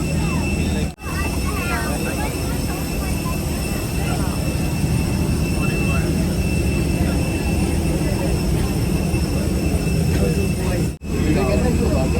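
A loud, steady jet engine roar fills the air close by at an airport, with continuous whining tones and two brief dropouts.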